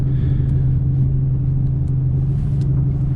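Single-turbo Ford F150 sleeper truck pulling hard on a street, a loud, steady, deep engine roar and rumble sustained throughout without letup.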